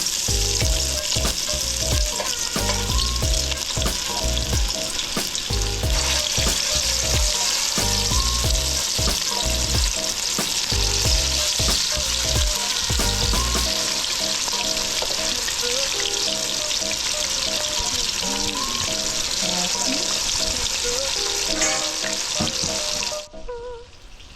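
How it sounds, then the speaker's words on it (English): White snapper fries in hot oil flavored with fresh thyme, a loud continuous sizzle with occasional stirring and clatter that runs steadily and then cuts off near the end. "I'm gonna start by frying the white snapper."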